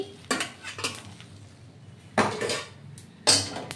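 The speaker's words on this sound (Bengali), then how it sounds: "এই কড়াই বসিয়ে দিলাম।" Metal cookware clanks several times: a few quick knocks early on, then two louder clangs of a kadai wok being set down on a stove.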